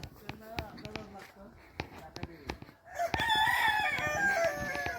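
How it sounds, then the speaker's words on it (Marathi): Scattered clucks and thumps lead into a loud, drawn-out rooster crow nearby, outside a house, that carries through to the end. "कोंबडा आमच्या स्वागतात ओरडतोय"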